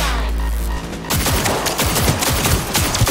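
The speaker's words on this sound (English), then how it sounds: "Heard shots." Rapid bursts of gunfire in the Cyberpunk 2077 video game, loud and close, with repeated shots rattling continuously after a brief lead-in.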